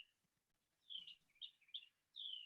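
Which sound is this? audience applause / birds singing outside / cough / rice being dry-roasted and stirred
birds singing outside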